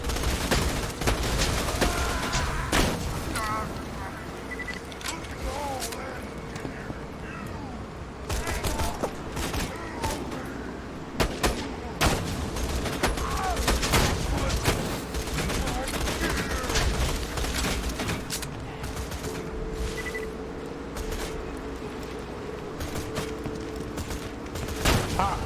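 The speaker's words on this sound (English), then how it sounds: "Time to try this new sniper rifle." Sniper rifle fire and a dense spread of other gunfire crackle through an Xbox shooter match, with repeated sharp cracks and bursts over a steady busy backdrop of game noise.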